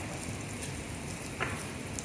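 Cumin seeds crackle in hot tempering oil for spinach sabzi, a faint, steady fizzing hiss with a brief louder pop partway through and no voices.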